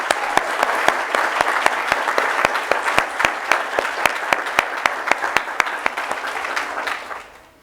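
Sustained audience applause at an alumni awards ceremony, dense steady clapping from a large crowd that carries evenly for several seconds before tapering off at the end.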